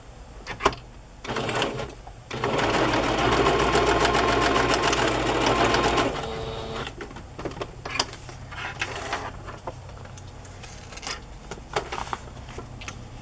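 A sewing machine stitching through paper ephemera runs in a loud, steady mechanical whir for a few seconds, framed by short start-stop bursts and quieter handling clicks before and after.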